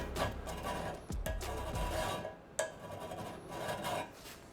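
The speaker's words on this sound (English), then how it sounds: "might as well just take a file and hit that burr" A hand file rasps against a metal part to smooth a burr, a few short, faint scraping strokes close by with brief pauses between them.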